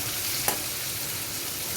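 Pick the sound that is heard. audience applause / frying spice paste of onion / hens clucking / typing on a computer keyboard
frying spice paste of onion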